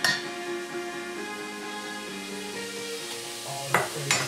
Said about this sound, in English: you gotta keep stirring it